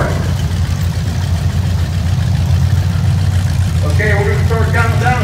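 Several 8-cylinder race cars idle before a heat at an American Legion county fair demolition derby, a steady low engine rumble running throughout, with a voice speaking briefly over it near the end.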